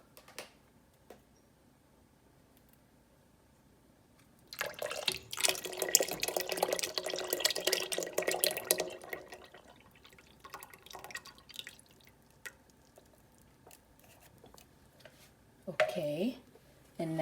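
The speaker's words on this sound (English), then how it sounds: "So go ahead and pour in that can of coconut milk." Coconut milk poured from a can into a cooking pot, a steady liquid splash and glug that runs for several seconds and then tapers off, with speech around it.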